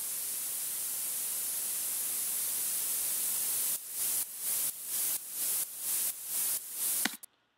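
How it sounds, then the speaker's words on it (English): White noise filter sweep hissing steadily, then sidechained to the kick so it pumps in eight rhythmic, evenly spaced surges before cutting off abruptly. "a really good effect is to use a white filter sweep, and then when the drop kicks, side chain it to the kick"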